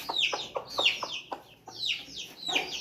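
A black breeder hen of a pure mushka pair clucking close by in a series of sharp, repeated calls in bursts, with short pauses between them.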